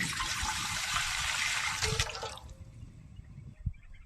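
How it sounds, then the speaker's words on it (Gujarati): Water pours into a cooking pot set out to boil soaked chickpeas, a loud steady splashing stream for about two seconds that then stops, leaving faint drips and a soft clunk. "એમાં હવે નાખી દઈએ પાણી."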